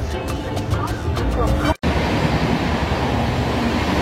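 An Amrit Bharat Express train rolls from Dankuni toward Andul, giving a steady close rumble of wheels and carriage noise throughout, broken by one brief dropout.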